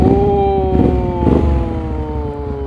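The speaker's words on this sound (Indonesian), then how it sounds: "Kita pengen dengar suaranya." A Hyosung GT250 V-twin motorcycle revs close by, loud and steady, with its pitch rising and falling through a few blips.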